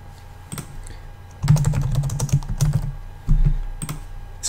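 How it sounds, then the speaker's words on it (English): Keys on a computer keyboard are typed in irregular bursts of close, crisp clicks, with a few heavier thumps from louder keystrokes and short pauses between flurries; no one speaks. "So I'm going to click on Pages, Add New."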